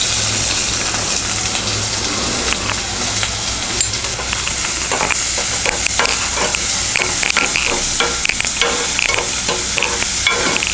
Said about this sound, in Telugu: ఆయిల్ వేడెక్కింది. ఉల్లిపాయలు వేసుకుందాం.